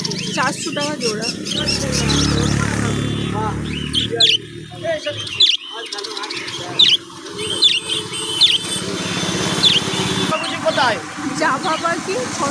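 Budgerigars at a bird market in Kolkata give repeated sharp chirps and tweets scattered through the clip, heard under someone talking loudly in the foreground.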